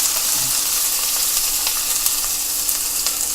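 Green onions hit a hot, lightly smoking pan for a beef Wellington and sizzle loudly, a dense steady hiss with small crackles close by.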